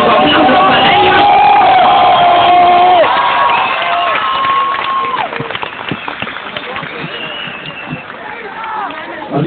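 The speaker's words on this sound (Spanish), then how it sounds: "¡Aplausos para ellos!" Crowd at a concert in Campeche cheers and claps, with whoops and loud shouting voices, a lively near roar that thins toward the end.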